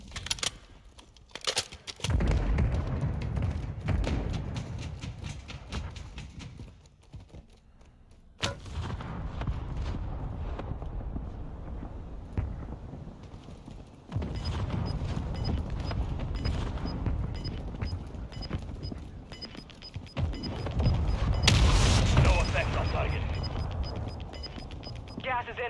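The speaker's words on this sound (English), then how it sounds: "Mortar strike inbound." Mortar strike in Warzone 2.0 sets off a series of heavy booming impacts with bursts of rumbling noise, mixed with game effects and voices talking over them.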